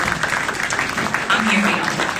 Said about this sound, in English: just give yourselves a round of applause